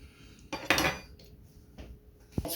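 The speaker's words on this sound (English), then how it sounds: "The best thing to do is to take a spoon and scrape the skin off" Spoon scraping the skin off fresh ginger, a few short scratchy strokes with light clinks, close and fairly quiet, the loudest burst early and another near the end, with no talking.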